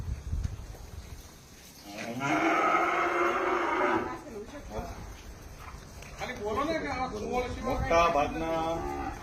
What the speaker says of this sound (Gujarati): ગાયોના વાછરડાઓ